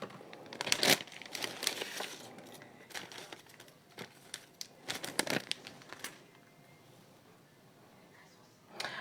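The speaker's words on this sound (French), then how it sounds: "sans faire trop de bruit avec le papier quand même" Paper crinkles and rustles in bursts as it is handled and set down, several close crackling flurries in the first half that thin to softer rustling, with no talk.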